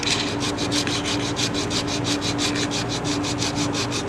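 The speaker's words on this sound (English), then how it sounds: "So let's see how this is going to take the sandpaper." Sandpaper rubbing by hand on a 3D printed Infinity Gauntlet part, a close, rapid run of regular back-and-forth scratching strokes, about four per second, with no talking.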